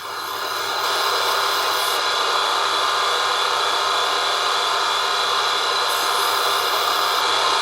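A steady, high-pitched grinding whine of a diamond wheel grinding opal, continuous and close, with no voices.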